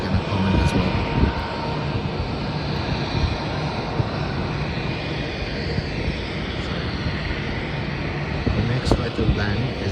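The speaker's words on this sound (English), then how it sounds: "that is a Qantas Airbus A321 coming in from the east-west runway and going to be landing shortly" A Qantas Airbus A321 on approach to land, arriving from Sydney, gives a steady, broad jet roar that holds loud and even throughout, with a voice talking over it.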